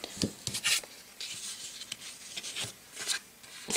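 Scraping and rubbing on a paper envelope as an address is removed, a few short rasping strokes up close, fairly quiet with brief pauses between bursts.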